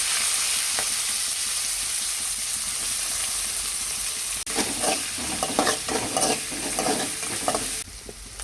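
Cumin, onions and curry leaves fry in hot oil with a loud, continuous hissing sizzle; midway, stirring strokes and spatula scrapes join in, close and uneven, and the hiss softens briefly near the end.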